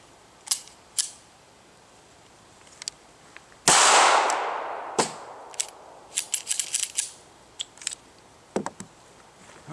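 A DiamondBack 380 pistol firing MagTech ammunition after factory repair, one loud close sharp report with a decaying ring, surrounded by many faint clicks and handling taps before and after.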